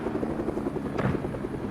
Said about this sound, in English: I do some stupid helicopter